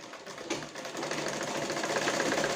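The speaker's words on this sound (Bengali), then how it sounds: "রাউন্ড যে সাইডটা, ওই সাইডটা সেলাই করে নিব।" A sewing machine stitches the rounded side of a bra, its motor whirring in a steady, close run that starts softly and holds loud and even after the first half-second.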